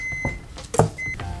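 A microwave oven heats chocolate with a low running hum, broken by a few short electronic beeps and soft clicks near the start and middle.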